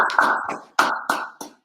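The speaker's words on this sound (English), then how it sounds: "So clap it up, clap it up." An audience at an ISUPK brotherhood class in North Carolina claps in four short, sharp bursts, close and fairly loud, with brief pauses between them.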